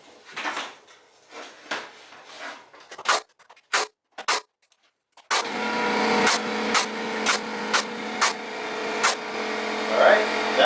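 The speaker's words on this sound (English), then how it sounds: "Compressor's loud." An air compressor powering a nail gun during work on a bathroom vanity kicks on partway through and runs loud and continuous, with sharp nailer bangs punctuating it; clicks and knocks come before it starts.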